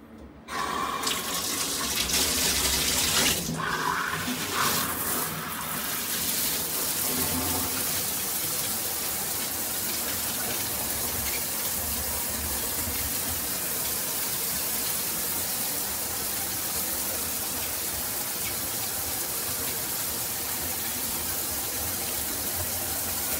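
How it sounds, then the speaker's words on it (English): Steady, full spray of water from a high-pressure rain shower head, a dense continuous hiss that starts abruptly and runs on without a break, close by. "high pressure rain shower head"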